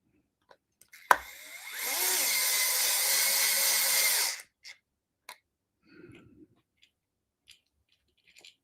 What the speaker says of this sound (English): One-handed speed bit change on the DeWalt gyro